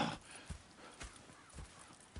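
Horses clip-clopping in the video game Red Dead Redemption 2, with a steady rhythm of soft hoofbeats on the ground at moderate distance, quiet and unhurried.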